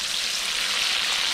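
A rockfish fillet fries skin side down in a hot pan, giving a steady, dense sizzle that stays loud and even throughout with no voices.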